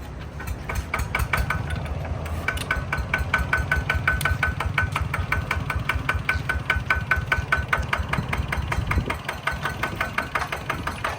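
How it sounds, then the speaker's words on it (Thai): A ZT110 Plus diesel engine with a big-tail rig and plough set runs steadily with a fast, even knocking rhythm, loud and close throughout. "เดี๋ยวลองเครื่องกันเลยนะครับผม"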